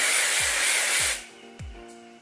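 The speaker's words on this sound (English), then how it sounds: "I'm gonna use some of the shine spray as well and just see how that looks on my hair" A shine spray is spritzed onto curly hair in one long, loud continuous hiss that cuts off abruptly, followed by a quiet room.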